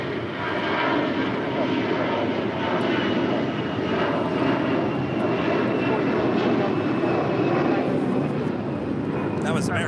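An American Airlines Airbus A321 jet departs LAX bound for Dallas–Fort Worth, its engines a loud, sustained broadband roar through the whole stretch, with a voice talking over it.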